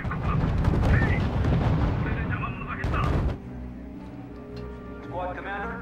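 Heavy artillery fire in the strategy video game R.U.S.E., a dense roll of loud booms and blasts for about three seconds, then quieter battlefield sounds with brief radio-style voices.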